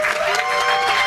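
Audience clapping at a hacker spelling bee held at a conference, a brief dense burst of applause from a crowd, loud and close, with no talk over it.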